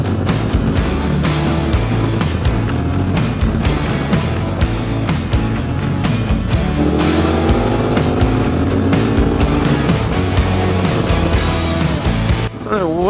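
A KTM 1290 Super Adventure motorcycle rides along a European road and passes a group of other bikes, its engine droning loudly and steadily up close, with rising revs and wind rush throughout.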